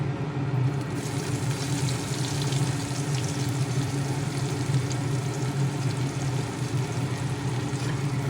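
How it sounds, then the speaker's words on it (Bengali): Chopped onions frying in oil with nigella seeds and two dried red chillies for a Bengali fish and brinjal curry, a steady close sizzle running throughout with faint stirring scrapes, no voices. "ফোড়নের সঙ্গে পেঁয়াজ কুচি ভালোভাবে নেড়ে চেড়ে একটু ভেজে নরম করে নেব"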